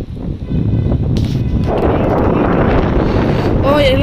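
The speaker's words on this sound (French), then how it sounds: "il commence à avoir du vent" Strong wind is picking up outdoors, buffeting the microphone with a loud, continuous rushing roar that swells after the first second and holds steady to the end.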